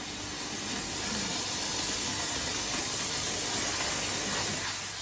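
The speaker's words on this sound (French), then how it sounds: "Donc là, je vais venir projeter de la vapeur." A steam cleaner sprays steam onto a seat during upholstery cleaning, giving a steady, fairly quiet hiss that holds evenly for about five seconds with no talk.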